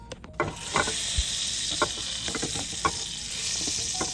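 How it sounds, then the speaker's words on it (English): A half stick of butter melting in a hot pan gives off a steady, close hissing sizzle, with occasional light scrapes and taps of a utensil against the pan. "Add in a half stick of butter. Then I'm gonna let that melt down a little bit"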